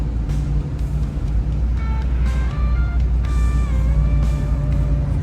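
A 1969 Buick Special Deluxe drives along the road, its engine a steady, close, loud rumble mixed with heavy rushing wind, with faint whining tones rising and falling as it moves through the gears.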